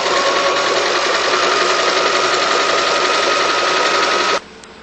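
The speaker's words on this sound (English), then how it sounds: "take a decorative stitch down the outside fold" A sewing machine runs a decorative stitch along an outside fold, a loud, close, steady mechanical whir with fast repetitive needle pulsing that cuts off abruptly near the end, leaving quiet room tone.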